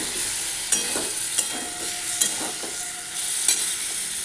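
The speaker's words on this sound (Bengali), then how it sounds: "মশলাটা দিয়ে পর সামান্য একটু জল দিয়ে মশলাটাকে কষে নেব।" Spice paste with a splash of water stir-fries in a pan over gas for a hing-flavoured potato dum, with a continuous sizzle and irregular scraping strokes, close and fairly loud.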